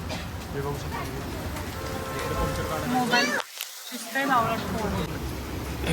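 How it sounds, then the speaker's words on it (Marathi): Steady rain with scattered hard hail hits patters throughout in Mumbai while a voice talks over it, with a brief quiet gap partway. "अक्षरशः गारपीट झाली इकडं गारा पडायला लागल्यात मुंबईमध्ये"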